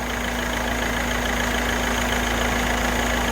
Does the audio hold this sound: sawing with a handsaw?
no